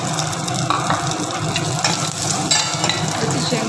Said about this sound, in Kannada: ಶೇಂಗಾ ಕಾಳನ್ನ ಚೆನ್ನಾಗಿ ಹುರ್ಕೋಬೇಕು.